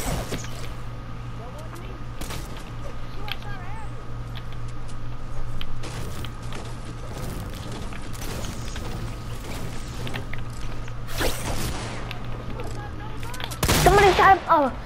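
Fortnite gunfire rattles through a game match in scattered shots and rapid bursts, with a louder burst near the end, while a voice talks faintly underneath.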